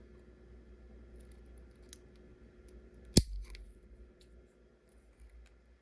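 A single sharp snip cuts one side off a plastic mounting bracket for a snake tub, a crisp close click standing out from near silence, followed by faint handling rustles.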